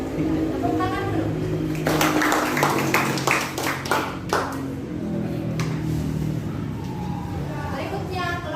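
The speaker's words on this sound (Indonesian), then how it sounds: "Tepuk tangan dulu." A group of students claps hands together in a classroom, a brief burst of overlapping claps rising over steady background voices and chatter, then fading back under the talk.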